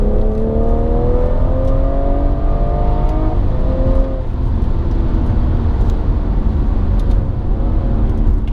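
A BMW 340i accelerating hard through the gears, its engine note climbing loud and close, dropping briefly at a shift, then pulling on strongly with a steady roar.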